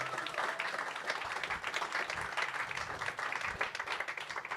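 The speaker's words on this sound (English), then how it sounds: "So I want to give it up to them. Big round of applause." An audience at a people's poetry event breaks into a round of applause, a dense, fairly distant wash of many clapping hands that holds steadily for several seconds.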